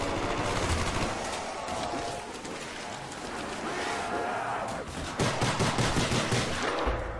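Pistol shots and other weapon fire in a Black Ops 3 Zombies round on the Shi No Numa map, dense and continuous, with a busy burst of rapid shots near the end.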